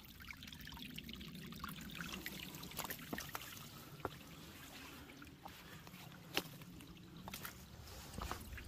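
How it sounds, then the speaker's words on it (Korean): Clear mountain valley stream water trickling steadily over rural land, a soft, continuous wash heard faintly at a distance with no voices. "맑은 계곡물이 졸졸졸 잘 흐르고 있고요"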